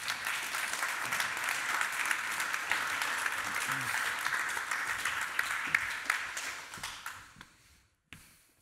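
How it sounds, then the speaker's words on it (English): An indoor audience applauds as speakers come onto a stage, a dense burst of clapping that fades out over several seconds, followed by a single stray clap. "Round of applause,"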